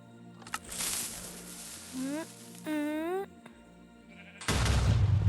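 Two short, wavering Minecraft sheep bleats sound in quick succession, the second louder and longer, followed by a burst of noisy rustle.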